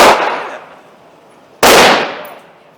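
Two loud, sharp pistol shots at an indoor shooting range, about a second and a half apart, each a sudden crack followed by a fading echo.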